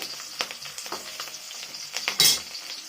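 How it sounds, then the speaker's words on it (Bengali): Garam masala, cloves, cinnamon and small cardamom crackle and sizzle in hot oil, with light stirring clicks and a sharp burst of spitting near the end, close and brief. "আর তারপর দেবো গরম মশলা, লবঙ্গ, দালচিনি আর ছোটো এলাচ। একটু ভেজে"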